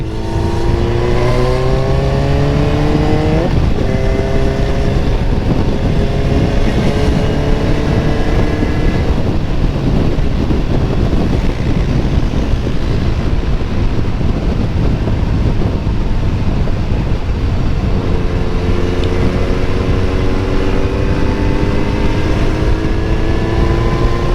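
A fully modified Kawasaki Z900 motorcycle being ridden hard, its engine note climbing loudly through the revs, dropping at gear shifts and rising again, close and continuous without talk.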